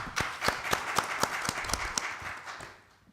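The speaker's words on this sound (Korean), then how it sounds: "박수를 한번 보시죠." An audience at a ceremony claps for a few seconds at an association founding event, a dense, fairly close round of applause with sharp individual claps that thins and fades out toward the end.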